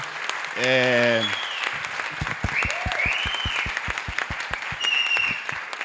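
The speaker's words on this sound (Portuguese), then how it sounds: "uma salva de palmas para a equipe que a gente viu" Audience applause for a documentary team at a film premiere event, a steady wash of clapping with distinct claps standing out, while a voice speaks over it near the start and some whoops rise through.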